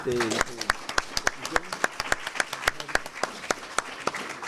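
An audience applauds a teacher, giving a rhythmic run of sharp, evenly spaced claps at a brisk pace, with a fuller patter of hands underneath. Voices speak beneath the clapping at the start.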